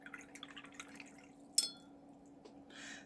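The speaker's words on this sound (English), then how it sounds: "then we'll add the water to that one and watch that one move across" Water brushed onto a watercolour paint swatch gives faint, close drips and small wet touches, with one brief bright clink midway and a soft wash near the end, with no talking.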